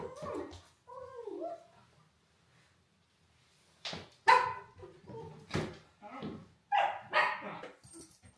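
Dogs whimper with high, wavering whines, then after a short quiet break bark several times in sharp, close bursts, mixed with more yips and whines.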